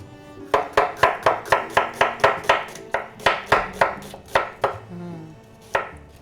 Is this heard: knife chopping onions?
yes